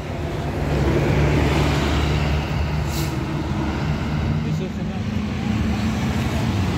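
Big Murni Jaya intercity buses roll by in dense holiday return traffic after Christmas, a steady loud roadside rumble of engines and tyres with a brief hiss near the middle.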